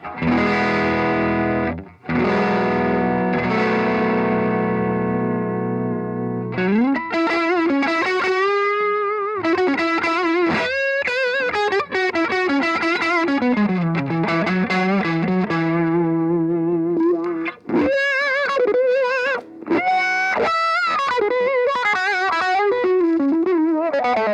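Distorted electric guitar through a Roland Cube 80 modelling amp at half gain, moderate crunch: a sustained chord rings out, then a run of chugging riffs and melodic lead bends, loud and continuous with no talking.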